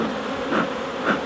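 Honey bees buzzing inside a busy hive, a steady dense drone close by with slight swells, no voices.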